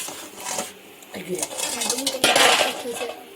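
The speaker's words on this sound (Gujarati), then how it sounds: "આટલા વાસણ ઉટકી નાખશે" Dishes, pots and pans clatter and clink as utensils are scrubbed in a village home kitchen, with dense bursts of metallic knocks that grow busier and louder toward the end.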